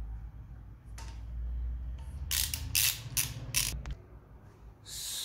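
A 17 mm spanner ratchets on an engine bolt during a valve clearance check, giving bursts of sharp clicking with quiet metallic handling and pauses between strokes, close by and alone.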